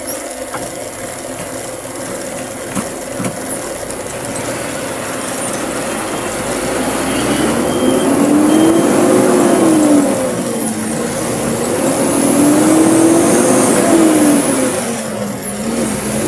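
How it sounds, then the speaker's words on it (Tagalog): A wing van truck passes on a rural road under rehabilitation in Zamboanga Sibugay, its engine droning and swelling nearer and louder over the middle of the passage with rattling and whining gear tones, then easing off; continuous, no voices. "Buti dito tayo nakasalubong ng wingban."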